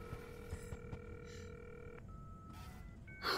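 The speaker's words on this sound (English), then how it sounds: "Oh my god, the freaking dial-up tone." Telephone tones from a handset in the video game Cyberpunk 2077 Phantom Liberty: quiet steady electronic dial tones with brief beeps, a pause, then another tone, with a short noisy burst at the end.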